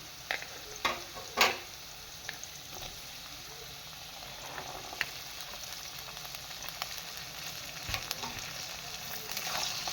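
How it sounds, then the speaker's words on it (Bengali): Capsicum and green peas sizzle steadily in hot oil over medium heat, tossed with already-fried cashews and raisins for fried rice, with a few sharp clinks and scrapes of a spoon stirring the pan. "সবগুলো মিলে কিছুক্ষণের জন্য ভেজে নেব"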